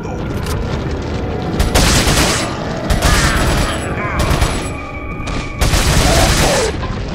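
Rapid bursts of automatic gunfire in Resident Evil 4, loud, close fusillades with booming shots and mechanical clatter, several volleys separated by short gaps.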